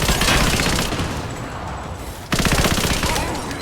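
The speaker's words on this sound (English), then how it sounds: "Machine gun!" Machine gun fire in Rise of the Tomb Raider: loud, rapid automatic bursts close up, one sustained volley, a brief dip, then another dense burst to the end.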